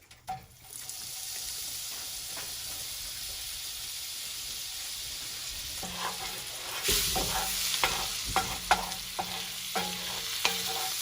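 Butter melts and sizzles around pieces of steak in a pan, a steady close frying hiss that later picks up sharp clinks and scrapes of stirring, with no talk.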